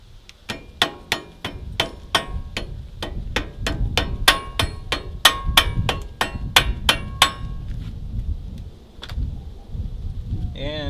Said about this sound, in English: Use your soft hammer.